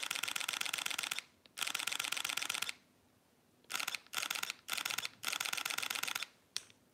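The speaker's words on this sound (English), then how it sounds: "You can hear the shutter sound in there all over again." Mechanical shutter of a Fujifilm X-T3 camera firing in continuous bursts at 11 frames per second, a rapid dense clatter in several runs separated by short pauses, close and clear.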